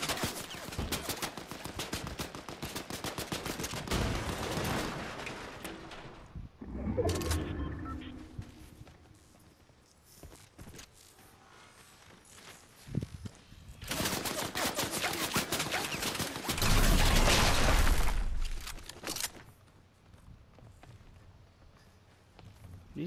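Gunfire in the Fortnite video game: bursts of rapid shots and volleys come in two dense loud stretches, with quieter pauses and scattered single cracks between them.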